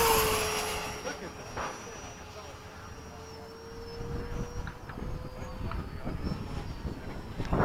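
An F-15 jet makes a low pass from the left, a steady whining engine tone that holds and slowly swells before fading, with a soft roar building underneath.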